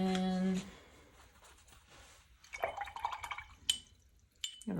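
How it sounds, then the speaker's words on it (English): Watercolor brush rinsed in a water jar, soft drips, splashes and light taps against glass, faint and intermittent after a short tone at the start. "I'm gonna rinse my brush."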